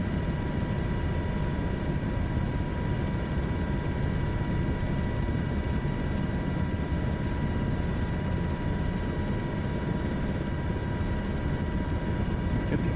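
A helicopter flies in a video game flight simulator, giving a constant, even rotor and engine drone that holds steady throughout at moderate level, with no voices.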